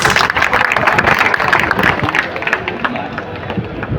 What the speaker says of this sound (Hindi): कॉमरेड एचपी सिंह जी, जोर से तालियां बजाई जाए।